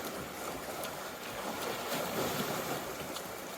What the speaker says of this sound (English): some waves coming in, so hopefully you can hear me.